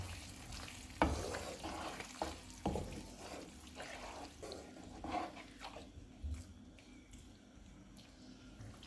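Mutton malai boti with fresh coriander is stirred in a pan, a spoon scraping and knocking against the metal amid soft sizzling, with a few sharper clanks at first before quieter stirring.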